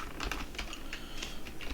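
Rapid, steady keystrokes on a computer keyboard, close and fairly loud, with clicks rattling continuously over a low background hum.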